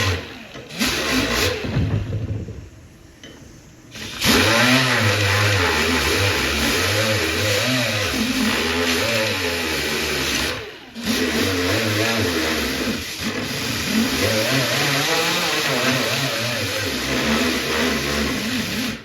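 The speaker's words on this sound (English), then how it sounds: "Let me go grab my other grinder with a 36 grit disc on it." An angle grinder with a coarse 36 grit disc grinds down a fan shroud, a loud, steady whining drone with brief drops near four and eleven seconds before it resumes.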